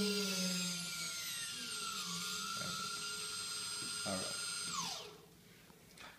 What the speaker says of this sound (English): if I increase the side, this motor will run faster.